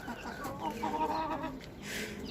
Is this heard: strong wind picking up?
no